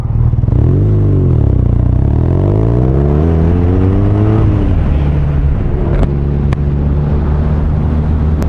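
A BMW motorcycle engine revs while riding, pitch climbing and dropping through gear changes in a loud, steady drone with a few sharp clicks near the end.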